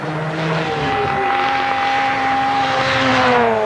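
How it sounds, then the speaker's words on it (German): A touring race car with a flat-spotted tyre on the Nordschleife, its engine note passing loud and close with a sustained, slowly shifting whine over the full length. "dann gibt es da offensichtlich einen Bremsplatten am Auto"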